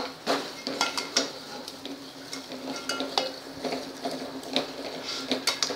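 Gram flour roasting in a pan over a low gas flame, with repeated scraping and clinking of a spoon against the metal as it is stirred, over a faint steady hiss.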